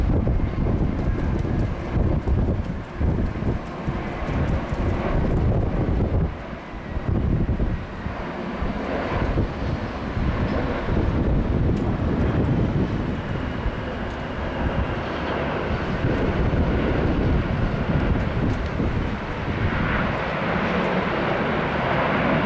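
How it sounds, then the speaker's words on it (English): A Jetstar Airbus A321 with sharklets arrives at Sydney Airport from Melbourne, a long sustained engine roar mixed with gusty wind noise, loud and steady throughout, with no voices. "Here we have a Jetstar 321 with some beautiful sharklets."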